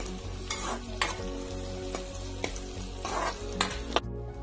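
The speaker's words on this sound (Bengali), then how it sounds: "গোটা জিরে দিয়ে দিলাম" Whole cumin seeds sizzle and fry in hot mustard oil in a home kitchen, a steady close crackle with several sharper stirring scrapes and clinks along the way.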